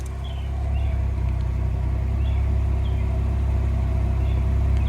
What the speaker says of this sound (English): I just let her idle after we drive a little bit here, but take a listen to the exhaust